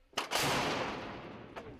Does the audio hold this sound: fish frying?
no